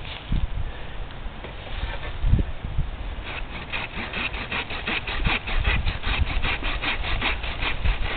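A hand saw cuts through the pure rootstock of a satsuma orange bush in steady back-and-forth strokes, up close and growing more rhythmic toward the end, with a low engine hum in the background.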